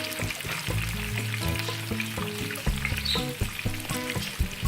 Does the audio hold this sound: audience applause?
no